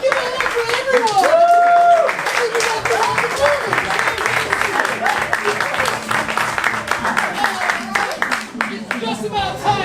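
Audience at an improv comedy show applauds the performers, sustained clapping and cheering with a host's voice talking over it.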